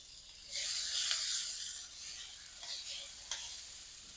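Diced sweet onions frying in a pan, a soft sizzle that swells and fades with a few brief scraping stirs, fairly quiet and alone.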